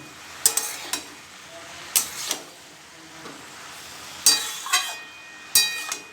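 Water lilies (shapla) cooking over a high gas flame get stirred in a handful of sharp scraping bursts against the pan, separated by quiet gaps with a faint sizzle underneath.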